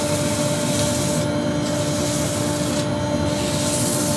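150 grit abrasive sanding a spinning burr wood bowl on a lathe, a loud continuous hissing rub over a steady motor hum, close up, with slight dips where pressure eases.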